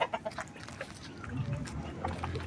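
Chickens on a farm cluck at feeding time in a steady, busy flock chatter, nearby and moderately loud, with scattered bird calls layered over a low background rumble.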